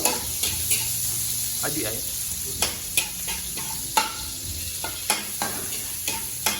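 Onions and tomatoes sautéing in a pan in a dirty kitchen, continuous close sizzling broken by repeated sharp spatula scrapes and stirring knocks in an uneven rhythm, with a short spoken exclamation.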